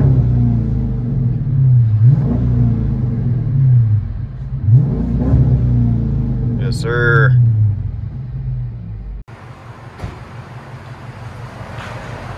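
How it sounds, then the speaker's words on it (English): Dodge Charger RT with a 5.7L HEMI and Flowmaster Flow FX exhaust rumbles deep from inside the cabin, revving twice in loud swells before settling to idle, while someone speaks over it. "inside of this Charger RT, let you guys hear it with the FX on it."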